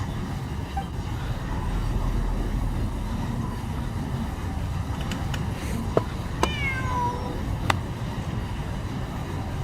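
A house cat gives a short rising-falling meow near the end, preceded by a few faint clicks, all over a steady background hum with no talking.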